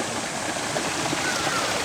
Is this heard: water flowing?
yes